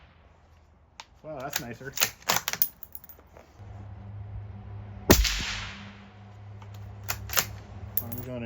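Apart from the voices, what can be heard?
5.56 rifle shots through Otter Creek Labs Polonium silencer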